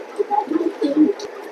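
Racing pigeons in a loft give a series of low, soft coos close by, with several overlapping calls over about a second and a half and no talking.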